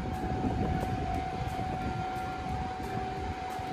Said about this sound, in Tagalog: Wow, ayan na yung train.